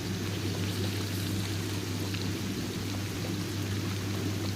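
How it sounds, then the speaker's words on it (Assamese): Dried fish fry in a pan with turmeric in a continuous, dense crackling sizzle, heard close and steady throughout with no voices. "এয়া শুকান মাছখিনি প্ৰায় হৈ গৈছে, অকণমান টাইম আৰু ৰাখি থ'ম মই, যাতে ভালকৈ ফ্ৰাই হৈ যায়"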